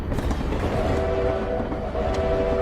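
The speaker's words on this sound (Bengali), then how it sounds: "জিএম এক্সপ্রেস নামক একটা ট্রেন নিজের গতিতে ছুটে আসছে" The GM Express train approaches on the railway in Mymensingh, rumbling along the tracks with a steady low roar, and a drawn-out tonal horn-like whine rises over it partway through.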